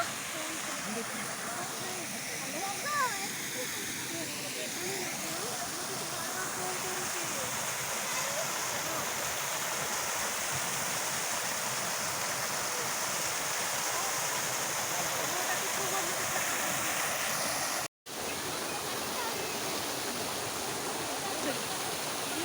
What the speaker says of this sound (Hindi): तो देखो तो केमती झरना